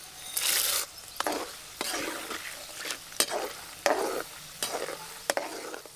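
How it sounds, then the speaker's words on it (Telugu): Peanuts and chana dal fry in hot oil for a tamarind pulihora tempering. Near and clear, a spatula scrapes and stirs in repeated rhythmic strokes, each bringing a burst of sizzling. "పల్లీలు శనగపప్పు మంచిగా గోలింది"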